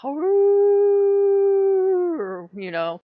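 A person's voice imitates a wolf howl, one long sustained loud tone for about two seconds, then dropping into shorter wavering yips and a final rising howl, close and alone.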